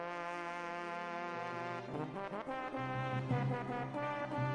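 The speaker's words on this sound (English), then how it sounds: "Bring out the air horn!" A loud air horn sound effect blares out in long sustained tones that shift and stack, building to a brash, blaring finish with no talk over it.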